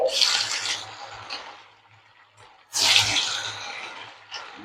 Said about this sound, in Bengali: তেল গরম হয়ে গেছে। এবার আমি মাছগুলো দিয়ে দিচ্ছি এর মধ্যে।